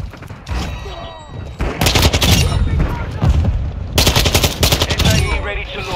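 Rapid automatic gunfire from a Kastov-74U in Call of Duty: Modern Warfare II, loud close bursts of shots in quick succession with short gaps between volleys.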